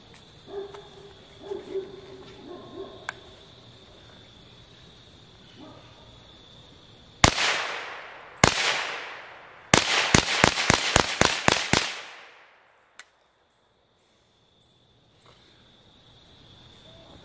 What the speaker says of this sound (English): we're going to take our Browning SA22, lay a few shots down